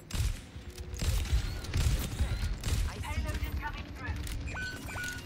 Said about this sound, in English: Oh god, who's up there shooting?